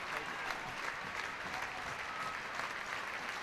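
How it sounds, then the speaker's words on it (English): Crowd at an ice hockey rink applauding steadily for an injured player being taken off for treatment, a dense, even wash of clapping from a large standing audience with no break. "everybody in the rink is standing and applauding Shea Guthrie"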